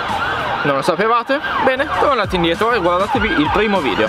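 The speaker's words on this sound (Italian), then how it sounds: "sono le ambulanze che passano ed è un casino." Ambulance sirens wail along a street, their rising and falling tones clearly audible and fairly close beneath someone speaking continuously in the foreground.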